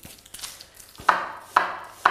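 Onions being chopped on a cutting board for a quinoa dish in a professional cooking competition kitchen: three sharp, close knife strikes about half a second apart, following softer scattered taps, with no talk.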